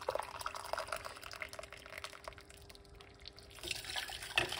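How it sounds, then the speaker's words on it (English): Hot water pours into a teapot for an evening cup of tea, a steady close liquid splash and trickle that runs for several seconds with a brief louder clink near the end. "that's the hot water into the pot"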